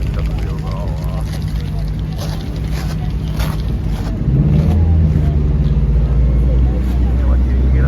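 A tuned car revs hard while trying to get wheel spin, a loud, close, continuous engine roar that swells a little louder partway through, with voices underneath.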